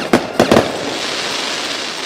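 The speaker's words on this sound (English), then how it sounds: "the phoenix explodes overhead into a dazzling firework that's just above your" Firework bursts overhead in a fantasy tabletop roleplay scene at a circus: three sharp crackling pops in quick succession, then a long fizzing, sparkling hiss that lingers without any voices.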